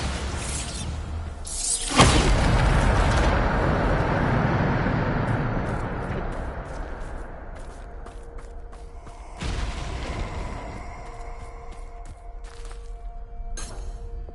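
A Bombarda spell explodes in Hogwarts Legacy with a sudden loud blast and shattering crash, followed by a long rumbling decay, then a second, smaller burst later amid faint game effects.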